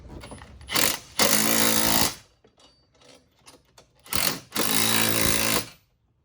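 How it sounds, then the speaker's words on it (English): Impact gun with a 13mm socket tightening bolts on a roof-mounted speaker for a CFMOTO side-by-side, two loud bursts of rapid hammering, each about a second long, with quieter clanks between, close up and without speech. "You're gonna wanna get your Ugga Dugga gun with your 13mm socket."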